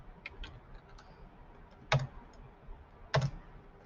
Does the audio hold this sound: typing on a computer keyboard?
yes